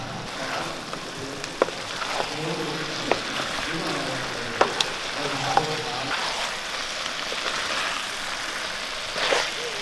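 Shallot chicken fry sizzles steadily in a pan. A spoon stirs it with occasional scraping knocks against the pan, and the whole thing stays loud and continuous throughout.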